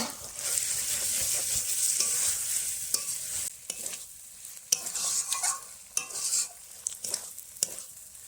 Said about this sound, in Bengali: কেটে রাখা কাঁচা লঙ্কা আর টমেটোটা দিয়ে দিচ্ছি দিয়ে খুব ভালোভাবে সুন্দর করে একদম কষিয়ে নেবো